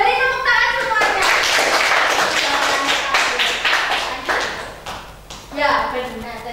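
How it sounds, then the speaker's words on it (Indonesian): A class of students claps hands together in a loose burst of applause that swells, thins out near the end, then briefly picks up again, with voices mixed in among the claps. "Oke, beri tepuk tangan semuanya"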